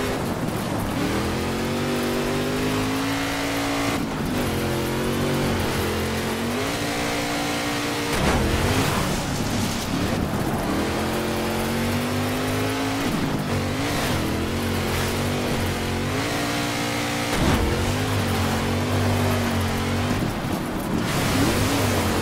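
Racing car engine in Colin McRae Dirt 2 revving hard through repeated rising and falling gear pitches, loud and continuous, with brief dips between shifts and tire noise mixed in.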